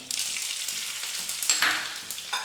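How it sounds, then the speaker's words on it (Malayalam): Cumin seeds and two dried red chillies fry in hot oil for a Kerala-style pumpkin and cowpea erisseri, giving a steady, close, bright sizzle with occasional stirring scrapes and pops. "ഒരു 2 ചുവന്ന മുളക് ഇതിലേക്ക് ചേർത്ത് കൊടുക്കാം."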